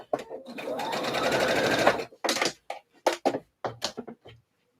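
Sewing machine stitching a slip dress, running in a steady loud burst for about two seconds, then several short stop-start bursts as the needle pivots and sews down the other side.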